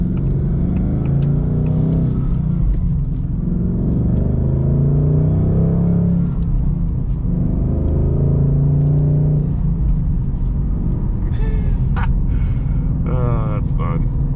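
Ford Mustang Dark Horse with a manual transmission being driven, its engine a steady close rumble that swells with acceleration and eases between gear changes, continuous throughout.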